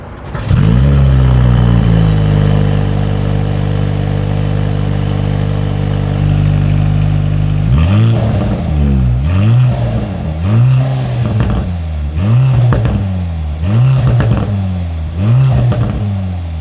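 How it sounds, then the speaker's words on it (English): A 2025 Mercedes-AMG C 43 sedan idles with a deep exhaust drone, then revs repeatedly in quick bursts, each rise and drop loud and close. "As always, here is that exhaust clip."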